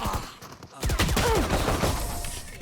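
Rapid gunfire in a first-person shooter video game, a dense burst of shots at close range, with a brief tonal in-game sound cutting through mid-burst and no talking.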